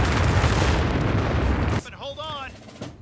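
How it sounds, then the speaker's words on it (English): A big, broad rumbling blast from rockets in the Company of Heroes 3 video game roars for nearly two seconds and then cuts off, followed by a voice. "Man, big explosion"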